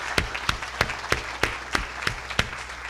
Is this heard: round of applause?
yes